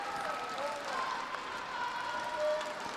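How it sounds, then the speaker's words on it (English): A crowd applauds after a net shot in a men's team badminton semi-final at the ASEAN Para Games, a broad, continuous wash of clapping heard from a distance, with a commentator speaking over it. "taking in the applause from behind"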